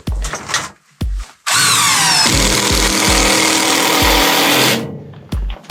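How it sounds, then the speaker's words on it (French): Cordless power drill driving screws into the legs of a track setup, a loud continuous whirring run lasting several seconds, framed by short bursts of motor and scattered knocks before and after. "Fait qu'il me reste à visser les pattes"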